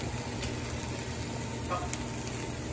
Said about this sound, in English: So now you got to just hold it, the pan. Start moving the sprouts over.